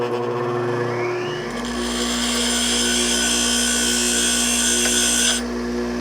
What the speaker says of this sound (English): take it over to the bench grinder and grind those welds down